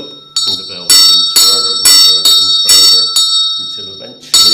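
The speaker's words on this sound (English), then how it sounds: "So we gradually pull on the rope, and the bell swings" Church bell at Bampton, Oxfordshire, swung by rope so it rings louder with each pull, giving loud, bright clanging strikes about every half second with a long ringing tail between them.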